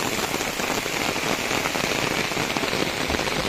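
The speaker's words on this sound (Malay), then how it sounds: "Serius memang hujan lebat." Heavy rain pours steadily onto a surface at a campsite by a river at night, a dense, constant hiss of drops with no pauses, close and loud.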